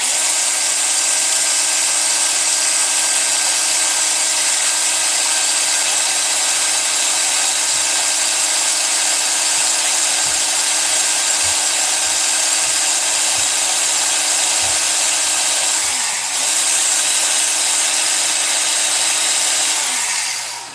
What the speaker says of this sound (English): I just take my grinding wheel here